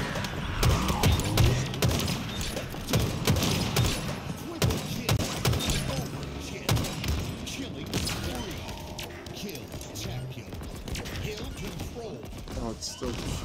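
Gunfire and rocket blasts hit the player in a Halo Infinite Firefight match, dense bursts of shots and booms running steadily throughout, loud and close, under excited chatter from several players.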